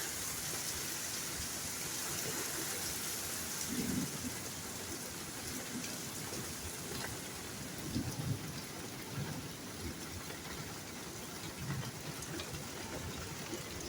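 A steady downpour hisses across the whole clip, with a few low thunder rumbles rolling in the distance; no voices.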